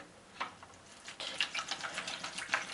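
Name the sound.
pouring 2 liters of water for a science experiment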